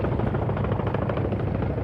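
A Chinook military transport helicopter droning with a heavy, steady rotor rumble that holds constant and fairly loud throughout.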